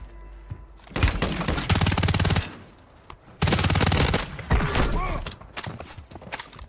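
Kastov 545 assault rifle in Warzone 3 rattles off two loud, sustained full-auto bursts at close range, separated by a short pause, with a voice speaking over the gunfire.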